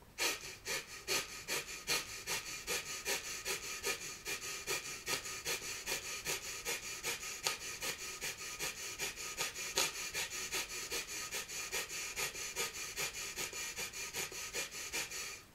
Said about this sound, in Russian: Дыхание должно быть, я даже покажу, какое дыхание должно быть.